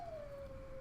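In a video game, a dog gives a single faint, drawn-out whimper that slides slightly downward in pitch, heard alone and quietly.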